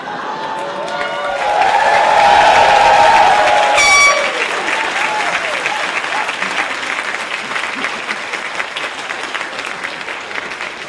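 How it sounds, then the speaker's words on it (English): Graduation celebration crowd in a university physics department hall cheering and applauding loudly for a graduate, swelling into a roaring peak of clapping and shouts, then settling into steady sustained applause with a brief whistle-like tone. "Cheer as loud as you can to make him look good"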